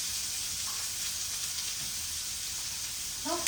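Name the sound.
food frying in hot oil on gas flame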